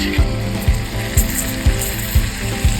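Garlic and ginger paste sizzles in a pan with fried onions. A steady, busy frying hiss runs throughout, with soft rhythmic clicks or knocks repeating about every half second.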